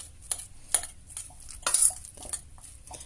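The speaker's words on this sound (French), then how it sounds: "Donc les batatas sont écrasées. On les verse dans la casserole." Soft scraping, stirring and clinking of a utensil against a saucepan as mashed potatoes are poured in, with a few sharper knocks spaced unevenly.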